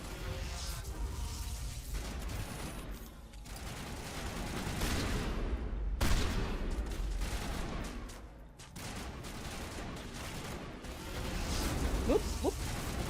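Rapid bursts of game gunfire from Mass Effect crackle throughout, loud and dense, with heavier booms and swells of combat noise layered under faint background sounds.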